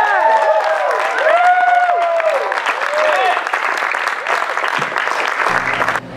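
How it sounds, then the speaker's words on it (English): Audience applauding and cheering after a live performance of a love ballad, sustained clapping with whoops from a crowd, loud and close, tapering off at the end. "Cheer for Vinay, everybody"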